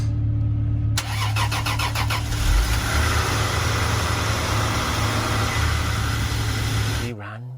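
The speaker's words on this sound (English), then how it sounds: "The engine is a 3-litre 2JZ GE, which unfortunately means it's non-turbo" A 3-litre non-turbo 2JZ-GE engine in a Toyota Soarer, off the road for a decade, cranks and fires at about one second, then runs steadily and loud at a smooth idle for several seconds before cutting off, with voices briefly audible.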